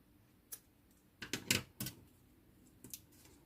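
Scissors snip through crochet yarn in a few crisp, close clicks, with a quick cluster of cuts in the middle and a lone click at each end over quiet room tone.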